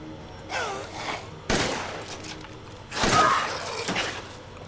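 Gunshots in the horror game Resident Evil Village, a few sharp bursts spaced a second or so apart with lingering tails and no talk over them.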